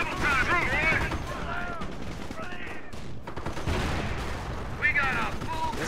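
Gunfire rattles in the World War II strategy game Company of Heroes, with dense bursts of rifle and machine-gun shots while voices shout over the fighting.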